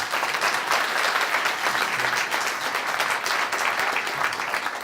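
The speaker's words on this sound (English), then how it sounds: "So everyone, can you give Andrew a round of applause?" An audience claps for a property auctioneer at the end of a live talk and Q&A, a loud, sustained round of applause with no speech over it.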